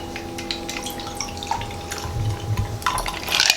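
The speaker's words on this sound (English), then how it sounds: "Let's give it a strain." Liquid from a cocktail shaker pours through a strainer into a glass, a steady trickling splash with a few drips, fairly close and fuller toward the end.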